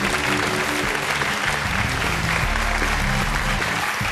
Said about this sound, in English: Round of applause for our mystery guest.